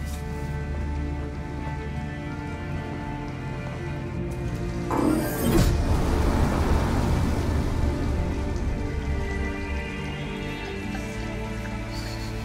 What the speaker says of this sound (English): Exhausted and it's pouring rain.